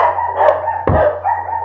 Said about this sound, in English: Little dogs never shut up, okay?